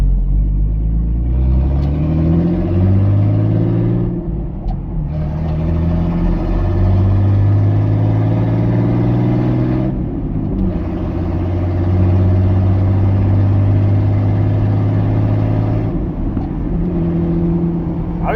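A Jeep engine with a new exhaust runs loud and close, its deep rumble holding steady with several revs rising and falling, and a couple of brief dips between pulls.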